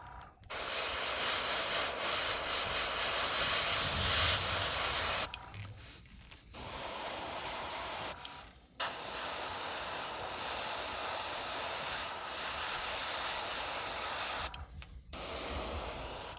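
An Iwata airbrush with a sticking trigger sprays paint onto a custom fishing lure, giving four long, steady bursts of close hiss separated by short silent pauses.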